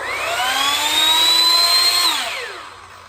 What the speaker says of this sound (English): And you can hear the gears there in the worm drive.